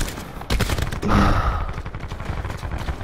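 Laser-like annihilator gunfire in a multiplayer shooter video game, a burst of sharp shots with a brighter sustained zap in the middle, loud and close amid continuous game noise.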